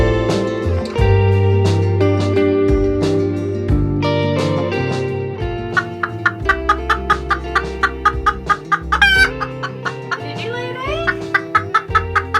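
Chickens cluck and call in a coop shared with ducks on a rainy day, a busy layered chorus that grows into sharp, rhythmic clucking pulses toward the end.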